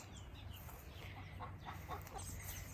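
Baby chickens cluck and peep in a continuous, busy chorus close by in a backyard, with a low steady rumble underneath and no talking.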